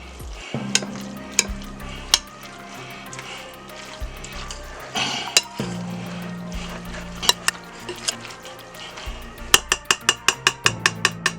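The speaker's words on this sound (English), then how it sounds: "Let me go ahead and stir this up just a little bit to get the egg incorporated." A spoon stirs chopped egg into a macaroni ham salad in a bowl, producing wet, squelchy mixing with scraping knocks, then a quick run of rhythmic taps toward the end, close and fairly loud with no speech.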